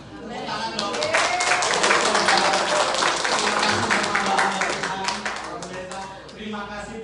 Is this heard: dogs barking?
no